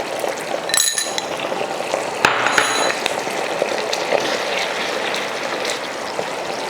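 A few spoonfuls of water go into a cooking pan while chicken kondattam is being made: a couple of sharp spoon clinks, then a soft, continuous liquid trickle and sizzle close by.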